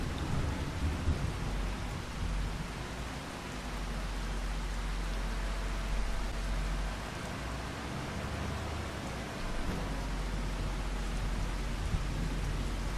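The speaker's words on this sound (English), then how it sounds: "Well, that's just what we needed. A nice rainy September day." Steady rain in Farming Simulator 25, a continuous dense hiss of falling drops with a low rumbling undertone, even and enveloping throughout with no talking.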